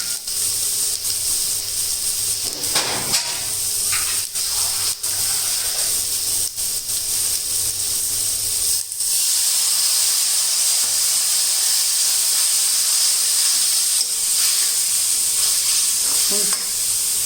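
Water poured into a pan of bhindi seed masala with tomatoes: a loud, continuous steamy hiss and sizzle close up, with a few spoon scrapes early on and no talking.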